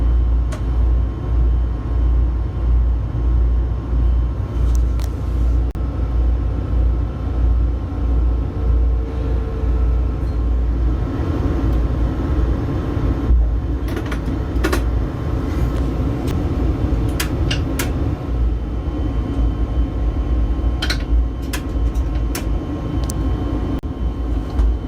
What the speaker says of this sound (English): The train driver has to stop to allow the animal to leave.